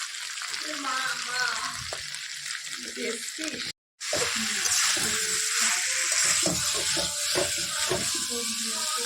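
Ginger paste, cumin paste, turmeric, chilli powder and salt fry with mixed vegetables in a pan for a curry, giving a dense, continuous sizzle with scattered utensil clinks and a brief gap. A voice talks faintly underneath.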